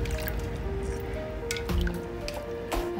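Goat leg curry in coconut milk simmering in a covered pot, giving soft wet bubbling and squishy plops, with a few sharper clinks over the steady murmur.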